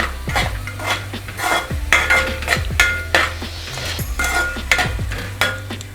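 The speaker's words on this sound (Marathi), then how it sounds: "फ्राय करायचं। 2 ते 3 मिनिटं आपण व्यवस्थित परतून घेऊया।" Vegetables for pav bhaji fry in a pan under steady stirring, with a sizzle beneath repeated close scrapes and clanks of a metal spoon against the pan in an uneven rhythm.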